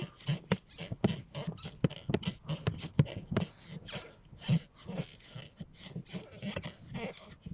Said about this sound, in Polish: jak mi wózek skrzypi.